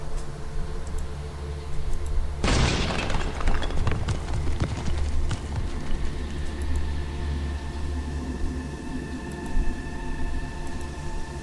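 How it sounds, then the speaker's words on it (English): A gunpowder charge packed into the sand at a pillar's base detonates in a video game, a sudden loud blast at about two and a half seconds followed by a long crackling, rumbling tail of falling debris. "The explosives are in place. I just have to detonate them somehow."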